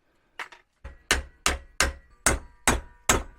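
Seven sharp metallic hammer blows strike a VW T25 gearbox mount bush, two quick light taps followed by a steady run of heavier hits, close and clear with no voices.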